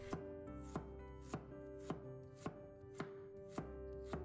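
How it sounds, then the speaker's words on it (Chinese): A knife slicing fresh ginger on a cutting board, about eight crisp, evenly spaced chops in a steady rhythm, close and clear with no talking. "把生姜切片"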